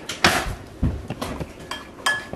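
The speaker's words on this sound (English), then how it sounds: "Go get your spoon and mix it up" A spoon stirs homemade borax slime in a container, producing a series of clinking taps and scrapes against the bowl at an uneven pace, close and fairly clear.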